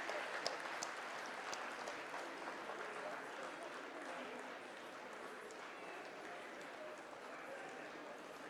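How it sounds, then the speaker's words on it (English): Audience applause at a dance anniversary celebration, a steady dense wash of clapping that holds evenly from start to finish at moderate distance with no talk over it. "They need a very big round of applause for the hard work they have done."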